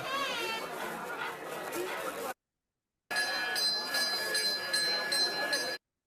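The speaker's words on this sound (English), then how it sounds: "The bell is very important." Temple bell rings repeatedly during a Hindu ritual, with bright metallic chimes under background chatter and children's voices, interrupted by a short silent gap before the ringing resumes.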